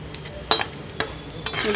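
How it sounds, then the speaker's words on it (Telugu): Paneer fries with salt in a pan, a soft sizzle broken by three or four sharp scrapes of a spatula stirring the pieces, close and fairly quiet. "పన్నీర్లో మనం ఎప్పుడైనా ఉప్పు వేసి వేయించుకుంటే కళాకి అంటుకోదండి చాలా బాగా వేగుతాయి"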